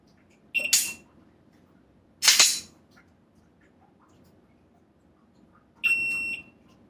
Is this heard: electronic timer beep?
yes